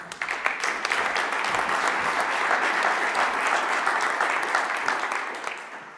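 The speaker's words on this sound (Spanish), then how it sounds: "Le recibimos también con un fuerte aplauso, por favor." A conference audience at a municipal experiences panel applauds to welcome a new presenter, a steady, dense wash of clapping that swells quickly and holds for several seconds before tapering off.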